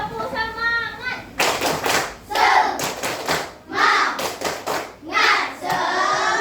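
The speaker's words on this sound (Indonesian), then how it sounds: "coba tepuk semangat dulu" A class of children does the tepuk semangat chant, clapping in rhythmic bursts of quick, loud claps between shouted chanting voices, close and energetic, with a teacher's voice at the start.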